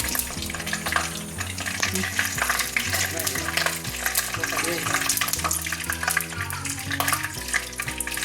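A quarter spoon of fennel seeds frying in hot oil in a pan, a continuous crackling sizzle running throughout beneath rhythmic background music.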